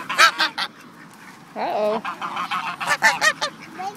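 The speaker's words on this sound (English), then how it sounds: "That duck's very serious about bread" A duck being fed bread gives a series of loud, nasal honking calls in quick bursts, close by, with a brief spoken exclamation from a person.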